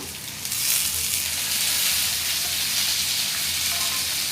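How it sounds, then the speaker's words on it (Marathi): Chopped tomatoes tipped into a pan of fried onions for egg bhurji set off a loud, steady hiss of sizzling that begins abruptly and carries on evenly throughout, with no talking. "कांदा आपला चांगला भाजलेला आहे आता आपण यात टोमॅटो घालूया"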